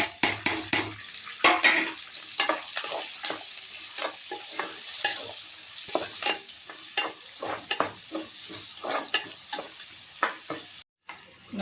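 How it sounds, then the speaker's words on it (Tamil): Onion, garlic, dried chillies and curry leaves sizzle in hot oil for an eggplant curry, with a spoon scraping and stirring in irregular bursts over a soft, continuous frying hiss close by. "இப்போ இதில் வெங்காயம், பூண்டு, காஞ்ச மிளகா, கருவேப்பிலை இதை கூட சேர்த்து தாளிச்சிப்போம்."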